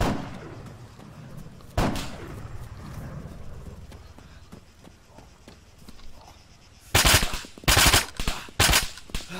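Gunfire in the Arma 3 Wasteland game: one sharp shot early, then a quiet stretch with light footsteps and faint movement before a loud burst of several rapid, closely spaced shots near the end.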